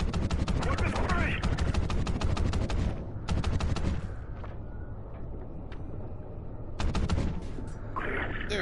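Rapid automatic gunfire in the video game Call of Duty: Ghosts, loud sustained bursts broken by short pauses, with a brief lull of quieter ambience midway before firing resumes.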